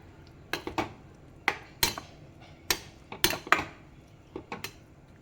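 A spoon knocks and scrapes against a pan as paneer gravy is stirred, giving a dozen or so sharp, irregular metallic clinks that are close and clear, with no talking.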